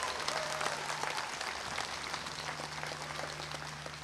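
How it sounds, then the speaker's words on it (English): Audience applause at a Hawaii mid-year commencement ceremony for graduates, a steady wash of many hands clapping that holds loud and even throughout, with a faint low hum underneath. "Let's give the graduates another round of applause"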